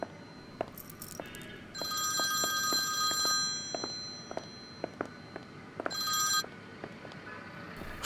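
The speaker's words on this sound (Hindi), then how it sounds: "सीको की कॉल है" A telephone rings with an incoming call indoors: two spells of bright electronic ringing, separated by a quiet gap, with soft clicks and footstep-like taps in between.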